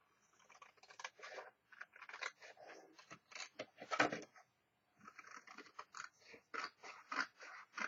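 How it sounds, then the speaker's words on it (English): Scissors snip repeatedly through fabric on a garage sale find, making quick, crisp crunching cuts in irregular bursts, close and fairly quiet, with a brief pause midway. "I better cut this off."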